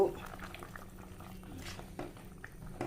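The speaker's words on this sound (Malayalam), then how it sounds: "ഇതാ ഇത് നല്ലോണം തിളക്കിയിട്ടുണ്ട്" A pot of fish curry with tomatoes boils steadily, a soft continuous bubbling and simmering hiss close by, with faint background noise and no clear speech.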